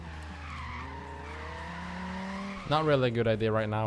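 A Volvo 850 R in Forza Horizon 3 skids with a rising tire squeal as the handbrake bites, engine droning throughout, with someone talking over it.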